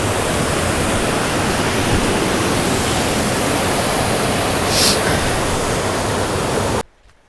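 A waterfall in Wales roars as a loud, steady rush of falling water heard up close, continuing unbroken before cutting off abruptly at the end.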